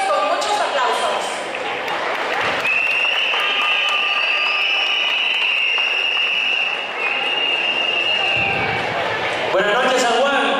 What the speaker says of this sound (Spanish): Lo recibimos con muchos aplausos.